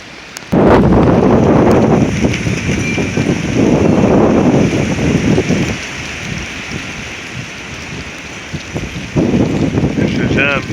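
Windstorm gusts in northern Oklahoma roar against the microphone in loud, surging bursts, easing for a few seconds in the middle before another strong blast near the end.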